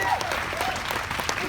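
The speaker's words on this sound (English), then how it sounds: "Give them a round of applause." An audience at an outdoor Lights for Liberty rally in San Luis Obispo claps in a brief, dense burst of applause that holds steady throughout.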